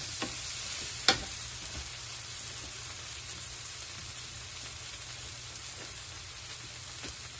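Pork belly sizzles and fries in a pan for pinakbet, a steady crackling hiss with a few sharp scrapes and clinks of stirring, close and even throughout with no talking.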